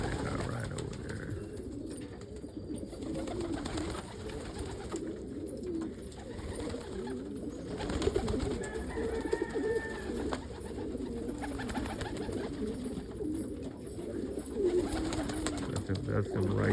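Crested pigeons, including a black crested saddle cock and an opal laced crested bird, coo softly and steadily in a backyard loft, with someone talking over them throughout.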